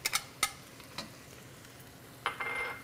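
Shrimp, garlic and tofu being stirred into Pad Thai noodles, with a few sharp scraping clatters of a utensil in the pan and a brief sizzling burst near the end, fairly quiet overall.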